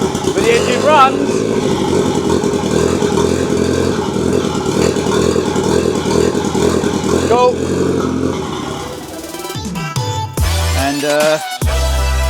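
A beach buggy engine under build, with no working accelerator, running loud and close at a steady idle with no throttle, a continuous rumbling drone that changes into clattering bursts near the end as a voice speaks briefly.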